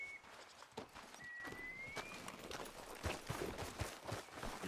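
A horse in Red Dead Redemption 2 clip-clops at a walk, its hooves falling in a steady, fairly close rhythm, with faint bird whistles in the background.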